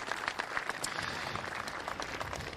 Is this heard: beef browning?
no